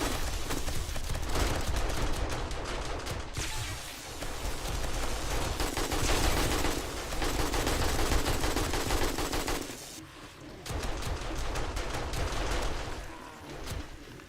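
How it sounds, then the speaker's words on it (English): Automated turrets fire in the 7 Days to Die video game as dense, rapid bursts of gunfire that rattle almost continuously, with a brief lull near the end before the shooting resumes. "Turrets are doing their job."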